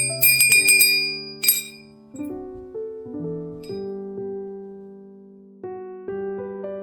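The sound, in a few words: solid brass Victorian lady table bell ringing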